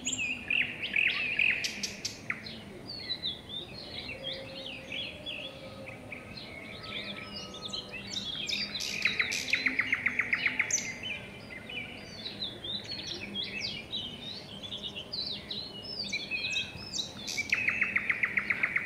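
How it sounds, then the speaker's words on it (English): Forest birds sing in a dense, continuous chorus of chirps, trills and whistled calls, several overlapping voices at moderate distance with repeated bursts of rapid twittering throughout. "The beautiful birds whose songs weave the fabric of the forest."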